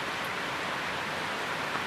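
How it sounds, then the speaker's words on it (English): Steady rain falling, a dense even hiss that holds constant throughout with no breaks, close and moderately loud, with no voices. "I'm going to go back to watching the rain fall."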